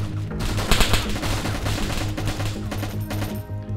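Rapid video game gunfire in DayZ on the Chernarus map, sustained bursts of automatic shots crackling loudly and continuously with short irregular gaps throughout.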